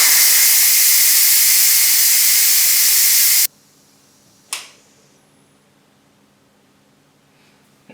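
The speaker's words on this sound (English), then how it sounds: "we're going to release all the steam out of there" Steam hisses loudly and steadily as an Instant Pot pressure cooker cooking green beans with bacon is vented, then cuts off abruptly, followed by a single sharp click and quiet.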